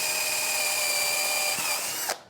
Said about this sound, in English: I'm going to drill my holes in here